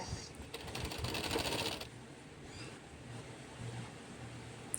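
A sewing machine stitches a blouse in a brief rapid run of close mechanical chatter, then falls to a quieter background hum.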